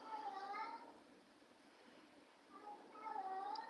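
A cat gives two drawn-out, wailing meows, one at the start and one at the end, with a quiet pause between them.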